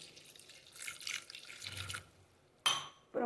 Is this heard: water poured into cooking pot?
yes